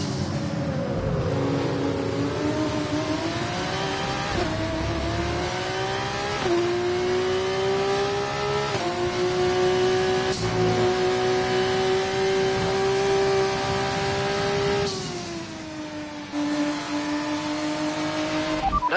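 An F1 race car engine screams through a quick lap in a racing video game, a high steady whine climbing with each upshift and dropping briefly near the end, close and loud with no talk.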